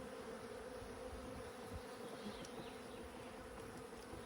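Honeybees buzz continuously in a dense, steady drone, close by and fairly quiet, with no talking.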